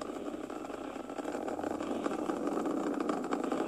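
A ULA rocket's engines roar during launch after throttling down to 95% of rated thrust, a steady, faint, rumbling broadband drone heard at a distance with no voices.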